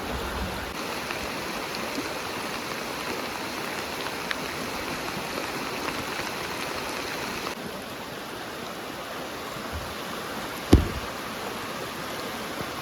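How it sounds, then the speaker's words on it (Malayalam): Heavy rain pours outdoors over an outdoor cooking spot, a steady, dense hiss that fills the whole stretch, broken only by a single sharp knock near the end. "നല്ല പൊരിഞ്ഞ മഴയത്താണ് കേട്ടോ ഞങ്ങൾ. പൊരിഞ്ഞ മഴ രക്ഷയില്ല."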